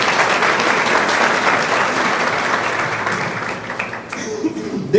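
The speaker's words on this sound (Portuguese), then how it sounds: "Uma salva de palmas para eles." Dense, steady applause from a church audience at a talk on pastoral service fills the whole stretch. It stays loud and unbroken until it thins out near the end, and a voice starts speaking as it fades.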